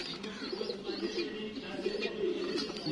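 Cooing of pigeons from a Salara bloodline breeding loft, a continuous low murmur of overlapping coos with soft higher chirps, steady and fairly close, with no talking.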